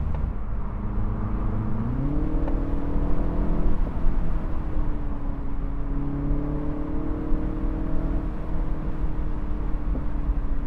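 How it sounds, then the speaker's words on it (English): A 2025 Mini Cooper S convertible's 204-horsepower turbocharged engine drones steadily while driving, its pitch climbing as it revs up around two seconds in, then holding a smooth, even hum under road noise. "The engine is revvy, it's responsive, it doesn't feel so much turbocharged like in JCW"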